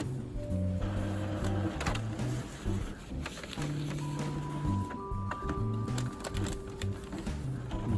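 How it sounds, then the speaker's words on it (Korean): An Epson L6000 series inkjet printer (L6170/L6190 type) runs a nozzle check with cleaning fluid loaded in place of ink. Its motors whir and hum in steady, shifting tones, with mechanical clicks and carriage movements. "이 상태에서 유지보수 들어가서 노즐 점검 한번 해볼게요"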